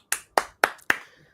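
Four sharp hand claps, evenly spaced and fairly close, at an online game jam awards ceremony, with no talking over them.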